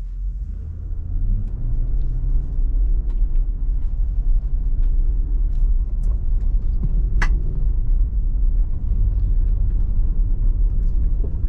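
A 2024 Nissan Patrol Warrior (Y62) with independent suspension rumbles steadily through muddy sections, a constant low engine drone with occasional clunks and splashes over bumpy ground.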